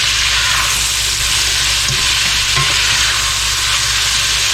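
Onions cooking down on medium heat in a pan for German potato salad, a steady, even frying hiss that holds throughout with no talk and only a couple of faint knocks.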